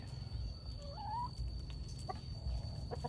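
Laying hens on a Thai backyard farm give soft, scattered clucks with a brief rising call, steady farmyard hum underneath and no talking.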